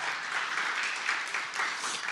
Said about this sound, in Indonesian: Agak fals sedikit tepuk tangannya.